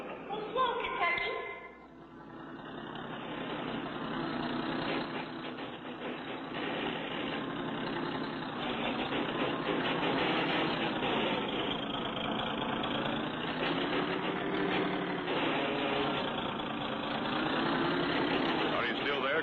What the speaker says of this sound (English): That car will pull us right up.